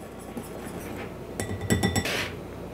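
Gluten-free flour, salt, baking soda and cream of tartar being stirred together in a bowl, with light scraping and a few bright clinks of utensil against the bowl, close and moderately quiet.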